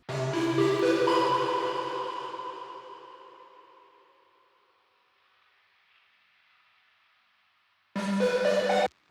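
A synth chord melody, played dry without shimmer reverb, sounds for about four seconds and decays into near silence before a new chord enters abruptly near the end, with no reverb tail filling the gap.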